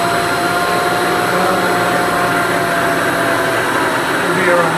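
A Webb milling machine driven by a VFD at 60 cycles, around 2,000 RPM, runs with a steady loud whine and hum that holds even and unbroken from start to end.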